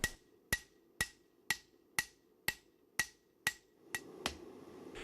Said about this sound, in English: I had to spend some time hand hammering down the perimeter to get an even thickness all the way across the blade